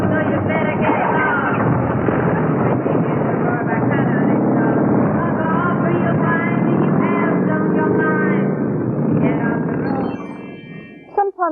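Motorbikes roar along a road in a continuous loud engine drone with shifting pitch and throttle swells, the noise cutting off abruptly near the end.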